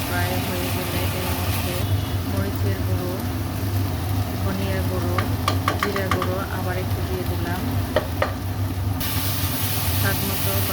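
A paste of onion, ginger, garlic and cumin sizzles and hisses steadily in a pan for egg korma, with someone talking over the frying and a few light utensil clinks.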